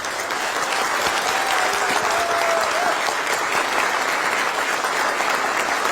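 Steady applause from a crowd of Korean expatriates at a welcome gathering in Türkiye for the visiting president, dense and even throughout with no talk on top.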